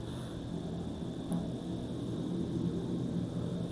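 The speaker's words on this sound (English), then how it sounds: "I can hear the air jet." A jet aircraft passes overhead as a faint, steady broadband roar under a constant hum, distant and unbroken throughout.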